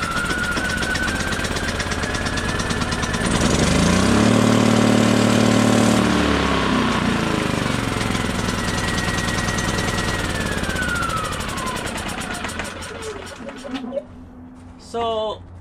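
A Champion 3400 inverter generator with a shorted inverter board starts on electric start, then runs loudly and unevenly, its engine note rising and sagging as it struggles to gain RPM before cutting out near the end.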